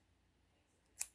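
Fabric for a homemade face mask is cut once with scissors, a single quiet snip near the end after near silence.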